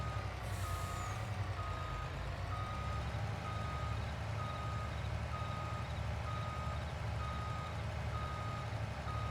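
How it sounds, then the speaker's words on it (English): Truck reversing beeper in a farming simulator game, a steady, evenly spaced series of high electronic beeps over a low idling engine rumble, continuous and moderately loud. "Back this truck up here and get it in that driveway."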